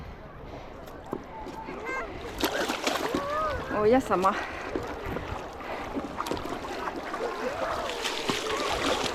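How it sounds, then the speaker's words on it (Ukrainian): Stand-up paddle boards are paddled on the calm Black Sea at Chornomorsk, with repeated sloshing and splashing strokes close by while people talk and call out over the water. "Так, тепер трішки прогребемося."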